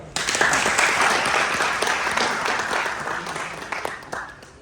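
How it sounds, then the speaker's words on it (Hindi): Guests at a retirement party for a Delhi Police officer break into lively applause, a thick wash of many hands clapping that gradually softens over several seconds. "इनकी दोस्ती के लिए तालियां।"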